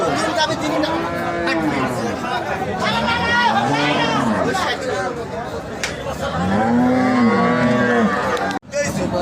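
Dairy cows at a busy rural cattle market give three long, rising and falling moos, spaced a few seconds apart, over constant crowd chatter and someone talking nearby.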